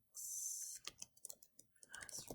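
Quick light clicks of computer keyboard typing during a classroom slide-design session, a short burst of keystrokes under a brief spoken word.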